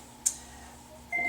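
A phone gives off short electronic beeps, one sharp tone near the start and a steadier tone at the end, over quiet room hum.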